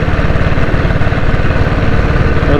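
A restored 1978 diesel Bullet motorcycle engine idles loudly and close, its steady low chugging thump repeating evenly with no voices over it.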